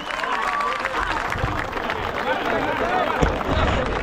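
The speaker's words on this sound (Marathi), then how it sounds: "जबरदस्त जोरदार टाळ्या झाल्या पाहिजेत" At a Dahi Handi festival event for Krishna Janmashtami, a crowd applauds and cheers outdoors, steady clapping blended with crowd noise and a voice over a loudspeaker, with occasional low thumps.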